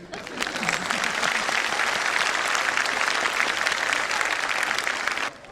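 A dense, loud burst of audience applause at a Jashn-e-Azadi event in Kolkata, steady clapping from a large crowd lasting several seconds before cutting off abruptly.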